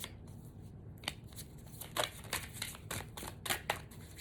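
Tarot cards are shuffled and flipped by hand, making quiet papery riffles and soft snapping slaps in an irregular series, close and faint.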